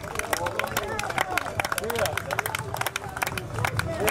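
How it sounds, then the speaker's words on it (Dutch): Crowd at a Laakdal running event applauding a runner, with dense, steady clapping close by mixed with babble and voices of bystanders. "En inderdaad een geweldig applaus voor Adam Moreau"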